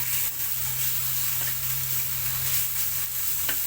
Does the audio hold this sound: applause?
no